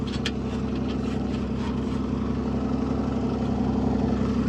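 Oliver 70 tractor engine running steadily, a continuous low rumbling drone with an even, unbroken throb throughout, loud and close with no pauses.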